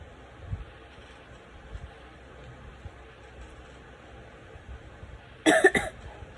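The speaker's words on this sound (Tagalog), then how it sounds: "Ayan, inaatake na naman ako ng ubo." A single short cough bursts out near the end, loud and close, following a quiet stretch of faint low background rumble.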